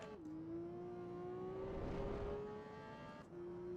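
A Porsche Cayman GT4 driven in Assetto Corsa EVO, its engine holding a steady, strong high note as it revs. The pitch shifts at the start and near the end with gear changes, with a faint whoosh in between.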